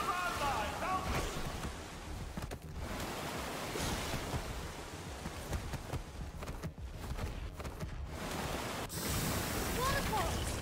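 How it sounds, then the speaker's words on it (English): A waterfall rushes in Minecraft Story Mode, a broad steady roar of falling water with some swells, while voices talk over it. "Waterfalls!"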